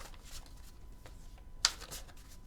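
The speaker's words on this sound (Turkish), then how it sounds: "Karıştırıp tekrar gelecek 10 gün için o kadar büyük ki kartlar elimde zor tutuyorum" Large tarot cards are shuffled by hand, giving soft riffling rustles and one sharp snap of the deck, quiet and close with no talking.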